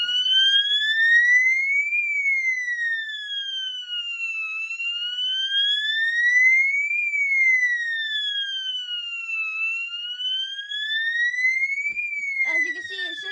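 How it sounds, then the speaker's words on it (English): A fire alarm sounds from a fire alarm board, a loud, continuous electronic siren-like wail sweeping slowly up and down in pitch, with a faint voice and a click near the end. "First fire alarm test."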